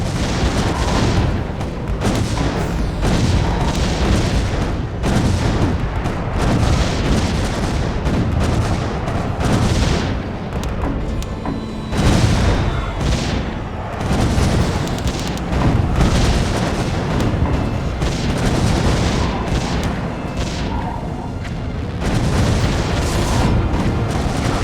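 Cannon shells burst again and again in the strategy game Defense Grid: The Awakening, a loud, dense barrage of booming blasts that rolls on steadily with no pauses.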